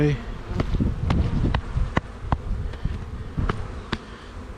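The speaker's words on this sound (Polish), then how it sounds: "o tak jak widzicie no to już zrzucamy tą pszczołę tutaj" Honeybees buzzing on a hive frame being shaken off during a hive inspection, a close, steady swarm drone punctuated by sharp knocks and taps of the frame.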